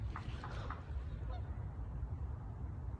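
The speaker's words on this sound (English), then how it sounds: "It's just like a black duck looking thing." A black, duck-like bird gives a few faint, brief honking calls early on, fairly distant, over a steady low outdoor rumble.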